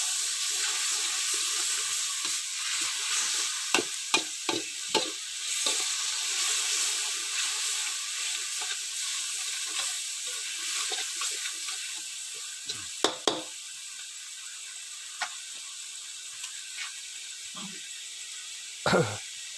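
Spicy catfish stir-fries in a little oil over an old home fire stove, with a bright, close sizzle, clattering stir strokes and scrapes that thin out toward a quieter sputter, without talk.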